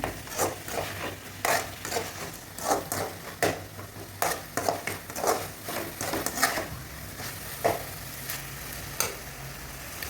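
Country chicken curry masala sautéing in a pan, with steady oily sizzling and repeated scraping stir strokes, village style, close and fairly quiet with no one talking.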